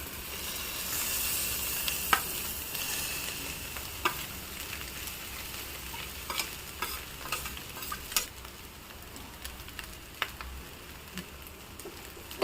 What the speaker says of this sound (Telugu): ఇప్పుడు దీంట్లో ఉడికించుకుని పక్కకు పెట్టుకున్న రైస్ అయితే వేసేసేయాలి.